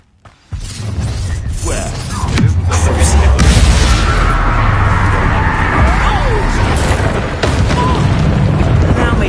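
Hogwarts Legacy gameplay of a Confringo fire spell: a sudden loud boom starts a long roaring, crackling blast that holds for several seconds amid overlapping game effects.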